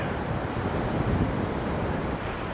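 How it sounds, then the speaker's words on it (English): Steady roaring wash of rough sea waves on the beach at Seaham mixed with wind buffeting the microphone, continuous and loud with no voices. "Certainly still a rough sea."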